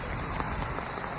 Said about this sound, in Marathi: इथे तर ना तुफान पाऊस आहे, तुफान